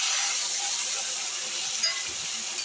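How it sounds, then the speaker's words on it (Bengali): A paste of mustard, green chilli and onion frying in a pan over lightly fried onion, giving a continuous bright, hissing sizzle, close and steady, with a brief stir near the end. "এবার ভালো করে কষবো মশলাটা।"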